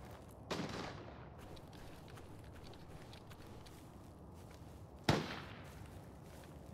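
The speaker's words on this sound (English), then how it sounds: "those shots are really close. Extremely close" Two sharp gunshots crack out in the shooter game Arena Breakout: Infinite, one near the start and a louder, closer one about five seconds later, each with a short tail, over quiet background ambience.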